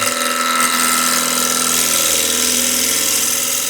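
A woodturning gouge cuts into solid wood on a lathe while a square plate is turned, producing a loud, steady, close whirring and tearing drone.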